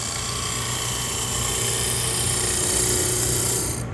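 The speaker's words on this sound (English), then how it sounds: "I raise the handle up just until I get a shaving cutting" A wood lathe roughing gouge cuts a screwdriver handle spindle, making a steady, loud whirring hiss of shaving and spinning wood that holds evenly throughout at close range.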